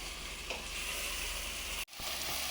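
Tomatoes sizzling as they cook in a pan, a steady close hiss of frying with faint stirring, briefly cut by a short dropout before the sizzle resumes.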